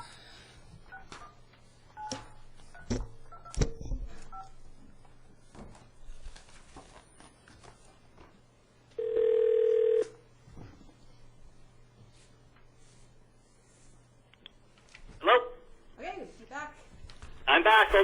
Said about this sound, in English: We'll wait till Mayor Wells gets back on the phone